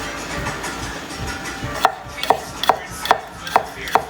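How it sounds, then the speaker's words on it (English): Knife chopping new garlic into small slices on a board, a run of six sharp, evenly spaced chops after softer cutting, close and loud with no talking. "I chop a little bit of the garlic that will be toasted"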